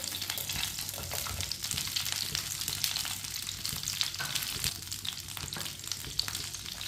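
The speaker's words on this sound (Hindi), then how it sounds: "घी को मैंने गरम कर लिया, आप देख सकते हैं। अब इसमें खजूरें डालेंगे।" Dates fry in hot ghee with a continuous crackling sizzle and bursts of popping, steady and close.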